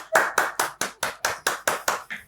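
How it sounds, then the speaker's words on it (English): Applause in clear bursts, about nine sharp claps in a steady rhythm, fairly close, with no talking over it. "please give him a standing ovation, guard of honor, round of applause"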